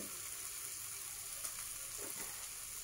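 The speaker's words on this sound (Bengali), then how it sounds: "মশলাটা কষছে ভালো মতো" Spice paste (masala) fries in a pan for a fish curry, a steady, fairly quiet sizzle with faint crackle and a soft stir or two, no voices.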